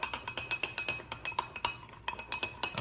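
A spoon clinks repeatedly against the side of a glass while stirring baking soda and vinegar, in a steady run of close, bright taps with a faint fizzing hiss beneath.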